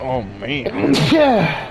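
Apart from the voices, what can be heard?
sneeze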